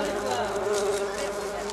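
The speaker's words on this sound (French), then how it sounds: "Ils attirent les mouches." Flies buzzing continuously around strawberries, a steady close insect drone that holds through the whole moment with no pauses.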